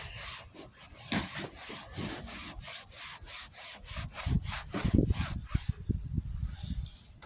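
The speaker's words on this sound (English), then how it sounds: "You take these clay mitts, and you can tell. Listen." Steady back-and-forth rubbing of a clay mitt over a VW Beetle's paint, a rhythmic gritty swishing repeated about a dozen times, close and fairly loud.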